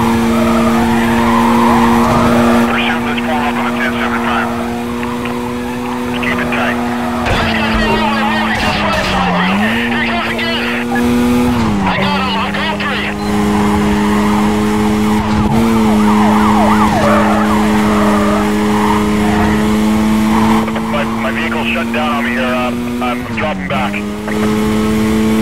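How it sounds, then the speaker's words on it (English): Police pursuit of a red Mazda in the video game Need for Speed Carbon, with a steady wailing siren, roaring engines and squealing tires throughout, under police radio chatter. "Units engaged high-speed pursuit of a single vehicle that is evading custody."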